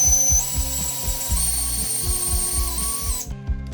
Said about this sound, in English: This is basically when I drill in here, right here, this angle, it's going to tell me where to stop.